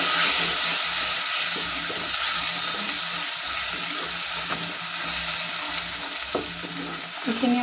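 Red chili, cumin and garam masala fry in hot oil in a pan for a raw banana curry, giving a steady close sizzle with faint stirring, no talking.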